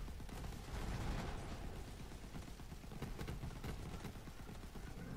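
The Sawbar gun in Borderlands 3 firing in a steady, loud, continuous burst of rapid shots, with dense crackling impacts throughout and no break.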